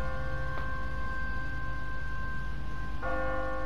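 An automatic church bell on a timer rings in a deserted city in The Walking Dead video game, two distinct tolls with a long ringing decay, the second about three seconds after the first, over a steady low background hum.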